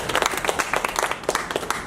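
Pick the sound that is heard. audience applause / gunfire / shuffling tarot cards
audience applause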